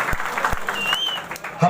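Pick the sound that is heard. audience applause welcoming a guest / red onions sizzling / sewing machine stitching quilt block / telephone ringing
audience applause welcoming a guest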